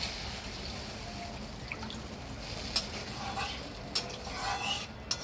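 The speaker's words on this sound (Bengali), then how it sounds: "এবার আমি অল্প করে এতে জল দিয়ে দেব" A little water goes into fried poppy seed paste sitting in oil in a pan, making soft trickling and dripping sounds with a few faint clicks of a spoon or vessel.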